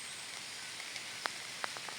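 Rain falling in a forest area, a steady soft hiss of drops with a few louder individual drips pattering nearby, faint and continuous, with no voices.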